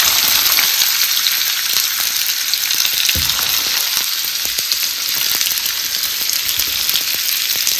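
Chopped onion frying in hot oil with popped cumin and mustard seeds for a village-style cucumber bhaji: a loud, close, continuous sizzle and crackle with small bursts throughout, and no talking.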